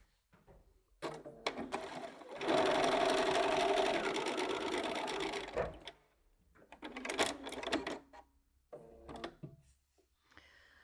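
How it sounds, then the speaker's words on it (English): Sewing machine stitching down the long seam of a bow-tie quilt block, a steady close motor whir running about three seconds, followed by shorter bursts of stitching and light handling clicks. "And I'm going to sew all the way down."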